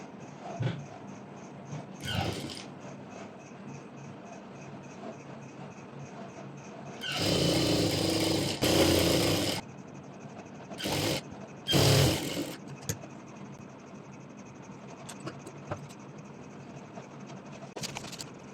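An electric sewing machine hems a circular maxi dress in short whirring bursts of rapid stitching, the longest running a couple of seconds, with quiet pauses between runs.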